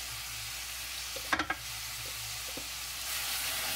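Carrots sizzle softly in a pan, with a few brief scraping knocks from stirring partway through under a steady faint frying hiss.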